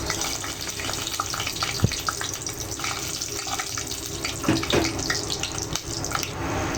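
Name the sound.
whole garam masala spices frying in hot oil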